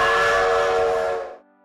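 A steam train whistle sounds as a sound effect, one sustained, loud, shrill tone lasting over a second before cutting off abruptly, heard alone with no talk.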